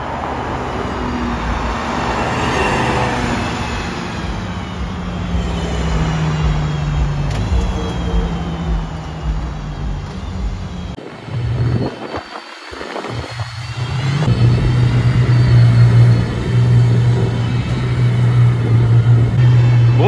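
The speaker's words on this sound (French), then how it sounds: "troisième Valkyrie en train de rouler" Aston Martin Valkyrie hypercar driving through London streets, an engine note building and passing amid steady city traffic noise, with a loud, sustained roar rising nearer toward the end.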